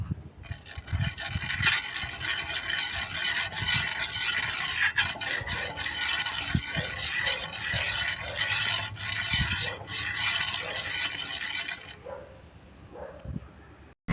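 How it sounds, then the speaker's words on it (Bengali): Oil being stirred in a pan set out on a sunny rooftop in 52°C heat, a steady scraping, rasping stir running continuously and close for about twelve seconds before stopping, with no talk. "চলো তেল দিই এবার একটু নেড়ে দেবো"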